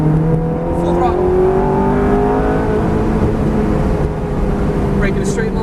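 A Ferrari F430 on a race track pulls hard at full throttle, its engine note a loud, sustained rising roar with a brief tire squeal near the end, while an instructor's voice talks over it.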